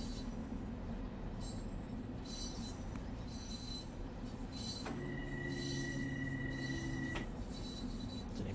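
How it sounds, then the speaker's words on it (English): An M3 commuter train passes in Train Sim World 2 on the New York Harlem line toward Grand Central, a steady rolling rumble with a brief sustained wheel squeal partway through, heard alone. "Here's our friend, the other train."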